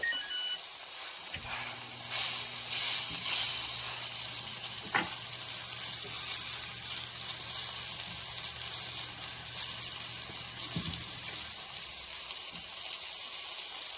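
Cube steak sizzles in a cast iron skillet as it is pressed down for a crust, a dense continuous crackling hiss held steady throughout, close and fairly loud, with a low hum running beneath for a stretch.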